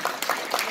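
A brief, dense burst of audience applause at a ceremonial congratulatory address, steady and close with no voices over it.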